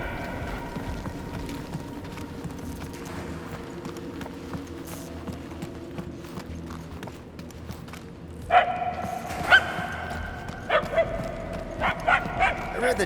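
In the Guardians of the Galaxy video game, a dog yelps and whimpers in a few short bursts over steady ambient rumble, fairly close, with characters talking throughout.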